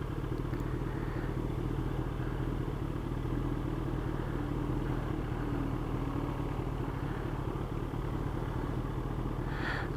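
Steady, loud engine drone from a 2012 Kawasaki Ninja ZX10R sport bike with around 57,000 km on it, heard while riding, a continuous low throb with rising pitch under acceleration and wind rush, no talking.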